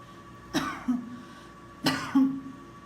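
Two short coughs from a woman during a physiotherapy session, each followed by a brief throat-clearing grunt, come in a pair of bursts close to the microphone in a quiet room.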